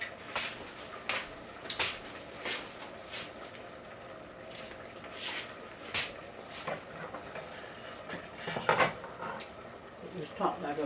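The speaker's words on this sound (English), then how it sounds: "I'll cut my onion." A knife chops an onion on a cutting board in a home kitchen, a series of sharp, uneven taps and clacks close by, with faint background kitchen noise between strokes.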